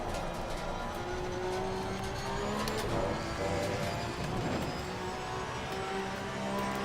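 A Porsche 992 Cup race car's engine at full throttle around Bathurst in Assetto Corsa Competizione, a steady loud drone with a rising pitch as it pulls hard out of a corner, running continuously throughout.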